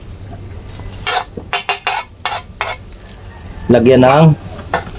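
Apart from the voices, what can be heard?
stirring kinilaw fish with chili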